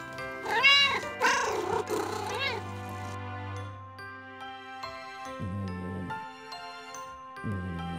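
A cartoon cat meows twice in drawn-out, wavering cries over soft background music, with calm melodic tones continuing afterward.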